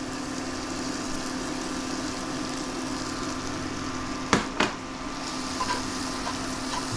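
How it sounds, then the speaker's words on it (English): Minced shallot sautés in a pan, giving a steady, loud sizzle of frying throughout, broken by a couple of brief clinks from a utensil stirring partway through. "Next, we want to add some shallot. Let that saute a little bit."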